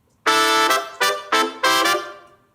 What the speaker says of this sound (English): So first up, I've got 3 trumpets played by V horns here, sounds like this.